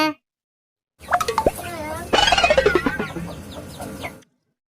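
A grown chicken clucks in short bursts, a few sharp clucks then a longer run of rapid rising-and-falling calls, close and clear, with a brief voice at the very start.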